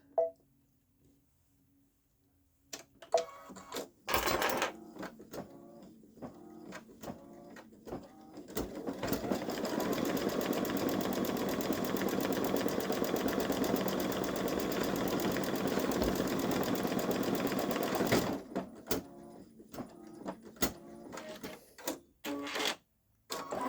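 Baby Lock Solaris embroidery machine stitching a tack-down line on a small fabric piece at slowed speed, a steady rapid needle chatter running about eight seconds in the middle, bracketed by scattered clicks and handling knocks.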